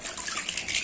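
Running water splashes steadily while baby toys and a plastic clothes clip are washed, a short, soft, close wash with no talking.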